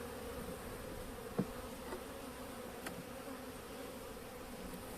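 Honey bees at a weak hive hum in a steady, faint drone, with a few brief louder buzzes as single bees pass close by.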